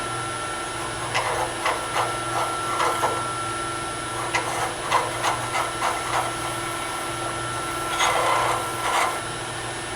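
A tool scrapes and rasps inside a miniature wood turning being hollowed on a lathe, giving irregular bursts of cutting noise over a steady background hum.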